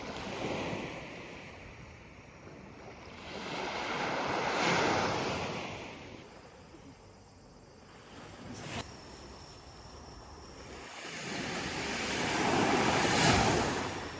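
Ocean waves roll onto a beach in Fukuoka in the evening. The surf swells and fades slowly, with wind rumbling across the microphone and no voices.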